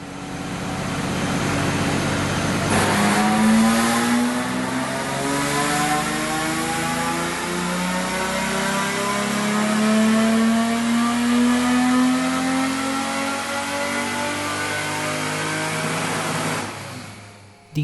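Car engine fitted with 60-inch long tube headers revving on a dyno, a loud, steady pull whose pitch climbs for about fourteen seconds before dropping off abruptly.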